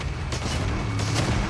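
Rapid bursts of video-game gunfire in a short, loud volley, with two dense clusters of shots close together and no voices over them.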